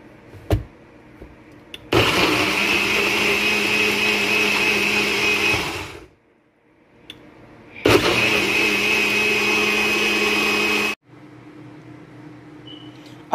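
A countertop blender whirs loudly through a vitamin-packed smoothie in two long bursts of steady, close motor roar, with a pause of quiet between them.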